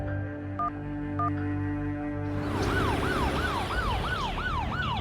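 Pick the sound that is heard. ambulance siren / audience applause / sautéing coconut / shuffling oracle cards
ambulance siren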